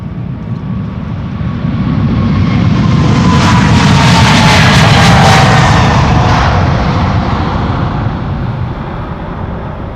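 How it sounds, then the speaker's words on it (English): KLM Boeing 777-300ER bound for Sao Paulo rolling past at Schiphol Airport, a loud continuous jet engine roar that builds to a peak mid-clip and eases off slowly. "this is KLM flight 791 to Sao Paulo."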